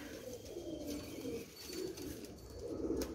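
Pigeons coo in soft, low, throaty rolls repeated every second or so, fairly faint with a quiet background and no talking.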